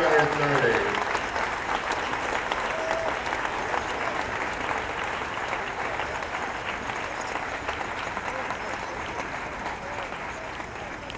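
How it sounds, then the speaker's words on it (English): A county fair crowd applauds a second-place eight-horse hitch team, a dense, sustained clapping that holds steady for several seconds with an announcer's voice at the start. "How about a round of applause for Troy Shaffer?"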